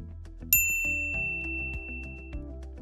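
A bright notification bell ding rings out once, sharp and clear, then rings on over steady background music.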